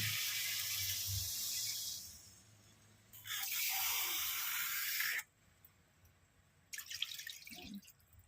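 Water is poured into a pot of mixed fish and shrimp cooking in its own juices, giving bursts of splashing, hissing pour separated by quieter dripping stretches, close up and alone.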